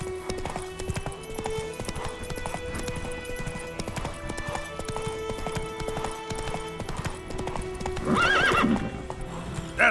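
Hooves of Roach, a horse ridden at speed in The Witcher 3 on PS5, clop in a steady galloping rhythm over game music, with a whinny rising near the end.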